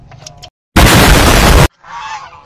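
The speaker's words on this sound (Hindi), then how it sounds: "बतखें वगैरह खड़ी है, ये एक बड़ी बतख खड़ी है।" A large duck inside a mall gives a few close honking calls, with one very loud, harsh burst in the middle framed by quieter honks.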